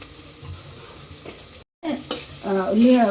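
Chopped onions with rock salt frying and being stirred in a pan, a close crackling sizzle with scraping, broken by a brief silent cut, then louder, busier sizzling.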